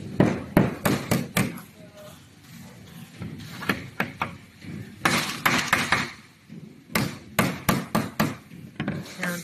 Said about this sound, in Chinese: 用锤子敲进车的这个缝里面， 敲垫到它这个是平的位置